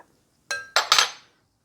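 Shrimp being stirred with seasoning in a metal pan, giving three quick clanking scrapes of a utensil in close succession, loud and near with no voices.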